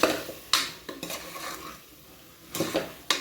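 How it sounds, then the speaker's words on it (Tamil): Turmeric, salt, chilli powder and masala powder stirred into onions in a pan, scraping spoon strokes and clinks against the metal arriving in separate bursts over a faint low sizzle. "போட்டு இது ஒரு நல்லா கிளறிலாம்."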